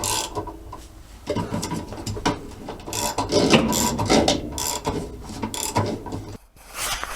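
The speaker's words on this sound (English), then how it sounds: "in order to get this bolt out, I had to basically put the wrench in and then hold the agitator by the bottom as I was turning counterclockwise" A wrench turns the agitator bolt of a 1980s Kenmore washer, giving a run of ratcheting clicks and mechanical rattles close up, steady and fairly loud with brief pauses, no voices.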